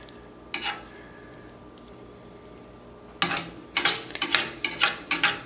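A utensil scrapes and taps a pan of scrambled eggs and spinach, a few quick scrapes early, then a busy run of clinks and stirs, with a faint sizzle underneath.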